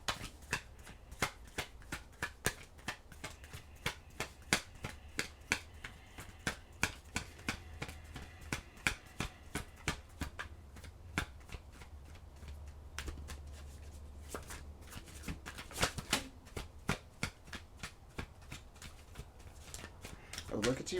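Tarot cards are shuffled close up, giving a long run of crisp, irregular riffling snaps and flicks that continue throughout at low volume.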